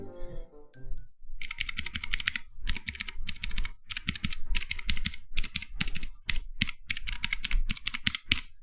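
A mechanical keyboard with blue switches clacks under fast, continuous typing, each sharp click close and loud, in dense bursts with brief pauses between runs.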